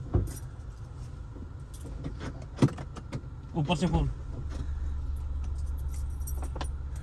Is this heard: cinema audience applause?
no